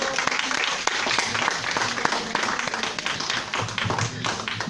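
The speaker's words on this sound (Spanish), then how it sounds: "Un aplauso para Pedro, por favor." Lively audience applause for a speaker at a talk on retirement funds, close and loud, many overlapping claps forming a dense, continuous patter with faint crowd murmur underneath.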